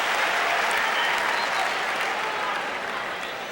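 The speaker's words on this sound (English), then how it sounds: "Now the crowd coming alive." A tennis crowd at the US Open applauds in a dense, steady wash of clapping that fills the stadium and fades slightly toward the end.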